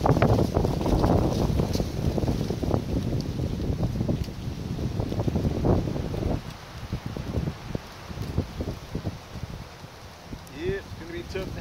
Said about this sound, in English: it's going to be tough to have a fire if that wind don't die down